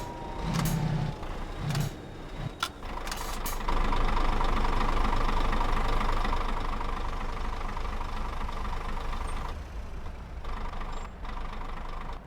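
A steady truck engine in Euro Truck Simulator 2 drones and rumbles throughout, its sound fading in and out, with a few sharp clicks and brief tones near the start.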